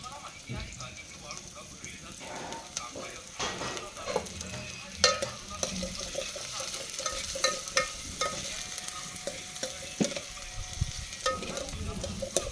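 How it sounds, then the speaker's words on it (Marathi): Onions sautéing and being stirred in a pan for a tribal-style mutton dish, with a steady sizzle and repeated scraping stirs throughout, while a voice talks over the cooking. "कांदा आपण परतून घेतोय बघा पाच मिनटं किंवा सहा मिनटं असं आपण हे करणार आहोत परतून घेणार आहोत"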